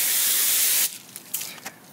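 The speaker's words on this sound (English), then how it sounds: "I'm gonna hose it off again. Hose off my scrub brush." Hose water spraying onto a scrub brush, a loud close hiss that cuts off abruptly partway through, followed by faint drips and splashes.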